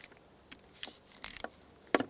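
A screw being threaded into the plastic center console latch of a 1996-2002 Toyota 4Runner, giving scattered small clicks and scraping ratchet-like bursts, loudest in a cluster midway and a sharp tick near the end, with no talking.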